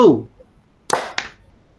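A group at a school facilitator training session claps after a spoken cue, giving two sharp, close percussive bursts less than half a second apart.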